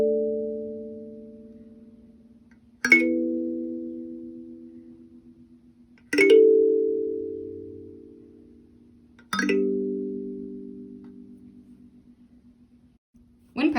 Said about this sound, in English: Playing exercise number 2, glissandos.